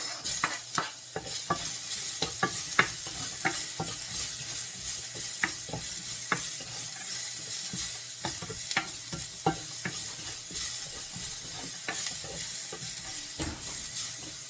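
Steady sizzle of onions frying in a pan, punctuated by frequent scraping clicks of a utensil stirring, close and without talk.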